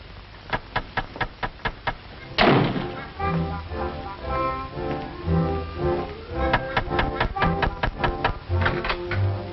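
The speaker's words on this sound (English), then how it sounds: "Someone's knocking at the door." Knocking at a house door in a 1947 comedy film: a quick series of sharp raps, then a loud thump, followed by further rhythmic knocks and thuds, close and clear on an old, band-limited soundtrack.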